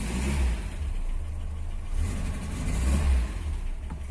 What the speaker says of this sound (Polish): A silniczek zimny, więc trochę jeszcze może zapłon wypadać.